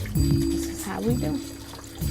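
Tap water pours and splashes steadily while meat is washed at a sink, with a voice speaking over the running stream.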